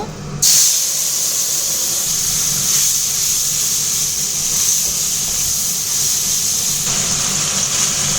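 Paste of green chilli, ginger, cumin, turmeric and salt hits hot oil for a pabda fish curry, bursting into a loud, steady close sizzle that begins abruptly and hisses on without pause.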